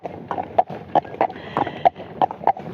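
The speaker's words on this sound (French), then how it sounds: "Et donc le poney arrive." A pony's hooves clip-clop steadily as it arrives, with a string of sharp, evenly spaced hoof strikes on hard ground. The steps sound close and distinct against a quiet background.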